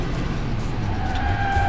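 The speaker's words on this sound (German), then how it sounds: "Zack, hier um die Kurve gedriftet." Car in the Alarm für Cobra 11 driving game drifting around a corner, a steady tire squeal over the engine drone, close and loud without speech.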